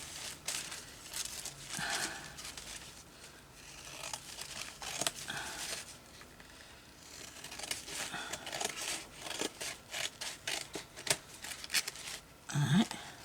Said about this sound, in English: I'm going to cut this out here and see what happens.